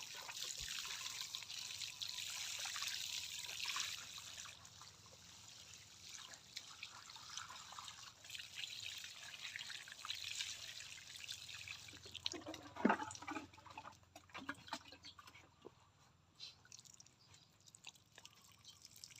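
Water trickling and dripping as a potted onion planting in a basin is soaked, a steady soft pour with scattered drips and splashes, louder splashing near the middle, no talk.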